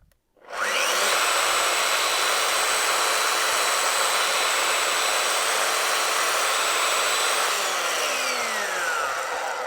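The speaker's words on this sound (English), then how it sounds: "or the cutter, which is a carbide cutter, it don't just rotate, it sweeps side to side" A Festool Domino joiner with a sweeping carbide cutter plunges into wood. It starts up and holds one loud, steady, high whirring cut close by for about nine seconds, then eases slightly at the end.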